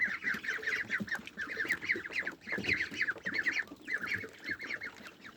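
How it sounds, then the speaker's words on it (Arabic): Domestic ducks on a rain-soaked rooftop during heavy winter weather, quacking in a steady, rapid chatter of repeated calls that sound fairly close and carry on without pause. "البط بتاعنا ما بيحبش الحبسة"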